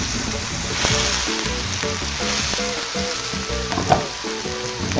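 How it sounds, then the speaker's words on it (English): Mushrooms sauté in a pan with browned garlic and caramelized brown sugar, a steady loud sizzle close up with occasional stirring scrapes, and no talking. "you may now saute the mushrooms"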